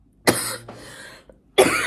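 Two forceful coughs close by, each a sharp burst with a breathy tail, separated by a brief pause.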